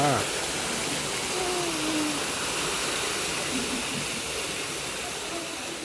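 Rain falls at the Kek Lok Si temple in Penang, an even, continuous hiss that fills the whole stretch at moderate volume, with a faint voice briefly audible early on.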